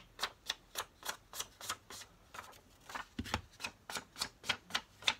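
Rubber stamp or ink pad dabbed repeatedly onto a paper card: about a dozen soft, evenly spaced taps in a steady rhythm, close and quiet, with no talking.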